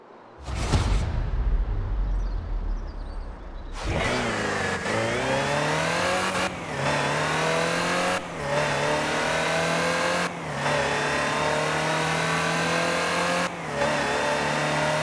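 A Land Rover Type 3 engine in Forza Horizon 4, loud and close: a sharp starter burst, then sustained revving that climbs through the gears, with brief dips at each shift over about eleven seconds.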